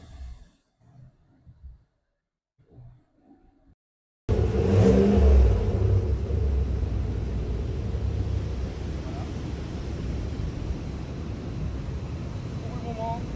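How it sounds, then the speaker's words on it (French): A GMC Yukon Denali's big American engine with quad exhaust outlets roars to life and holds a loud, steady rumble, after a few seconds of quiet speech beforehand. "un gros moteur américain, grosse voiture américaine, 4 sorties d'échappement"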